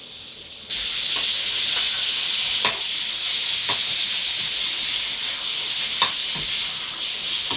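Beef strips hitting a hot wok during a ginger beef stir fry set off a loud, steady sizzle and steam hiss from the start, with a few sharp clinks and stirring scrapes scattered through and no talk.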